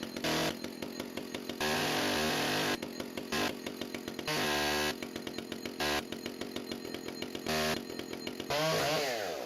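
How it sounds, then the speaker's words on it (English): A chainsaw roars close by, revving and bogging down repeatedly as it bites through wood, with brief idling breaks between cuts. "So I cut the pieces up with the chainsaw to get them down to a manageable size"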